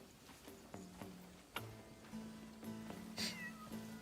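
A cat meows several times in the video game Crimson Desert, with short, fairly close calls spread across a quiet ambient background and a faint steady hum.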